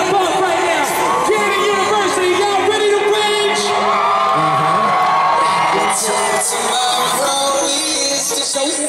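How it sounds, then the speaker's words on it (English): A concert crowd in a university venue cheers, whoops and shouts loudly and continuously, with voices rising and falling together in a dense roar. "I wanna hear this room shaking as loud as you can"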